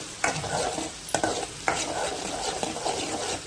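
Ginger garlic paste fries in a pan for a kaju masala gravy, crackling steadily as a spoon stirs it in several sharp, evenly spaced scrapes up close.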